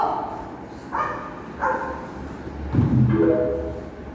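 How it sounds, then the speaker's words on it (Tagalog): A dog barks several times in a row, evenly spaced yelps followed by a longer drawn-out howl-like bark, moderately close over a steady low background hum. "Ano naririnig nyo? Aso."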